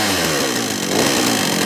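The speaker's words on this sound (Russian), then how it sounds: "Хотя пила, ну, сама цепь должна стоять, в общем-то, в идеале." A Hyundai X460 petrol chainsaw rated at 3.1 horsepower idles close by, a steady buzzing engine drone with a rough, pulsing rumble that holds evenly for under two seconds, with no talk.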